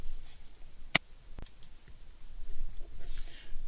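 A computer mouse gives two brief, sharp clicks about half a second apart in a quiet room while creating a new OneDrive document, with no talking.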